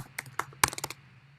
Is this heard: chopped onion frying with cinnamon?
no